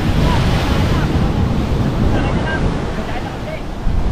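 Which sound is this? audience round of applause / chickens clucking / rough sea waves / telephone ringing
rough sea waves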